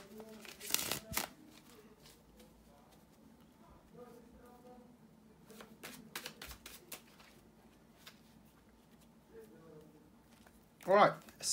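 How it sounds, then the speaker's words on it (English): Soft papery riffling and tapping of cards being shuffled in short bursts, with a voice speaking quietly in between. "bear with me a second, guys, to shuffle the tarot cards"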